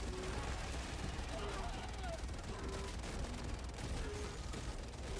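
Gunfire in the video game Helldivers 2 while fighting Terminids: dense, continuous shooting and explosions form a steady roar, with players talking over it.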